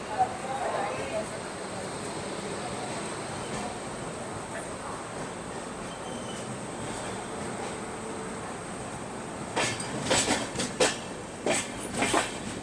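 Steady rumble heard from inside a 3AC economy coach of the Indore–Patna Express as it pulls out of Ujjain Junction, with muffled voices around and a burst of wheel clicks and clacks near the end.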